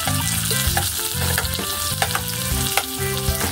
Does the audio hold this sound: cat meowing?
no